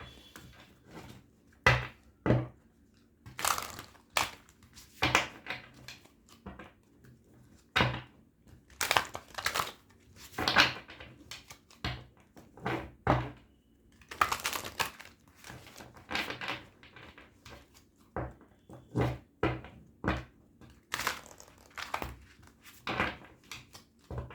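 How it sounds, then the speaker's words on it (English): Tarot cards being shuffled by hand, a run of irregular papery riffles and soft taps on a table, close and moderately quiet, with no talking. "Let me just shuffle your cards."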